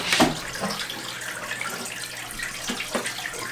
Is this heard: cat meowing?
no